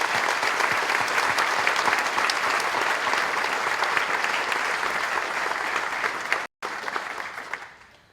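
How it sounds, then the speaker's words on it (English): A large audience applauds outdoors under a tent at a high school scholarship and awards night, with loud, dense, steady clapping that runs unbroken, cuts out for a moment near the end, then resumes and fades away. "Please join me in a round of applause"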